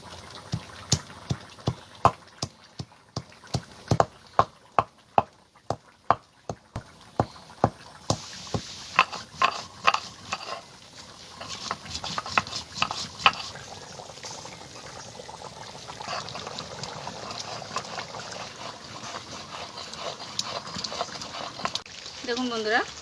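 Whole garam masala spices being ground into a paste by hand for a traditional chicken dish, with a steady run of sharp, rhythmic pounding and scraping strokes that later blur into denser grinding noise.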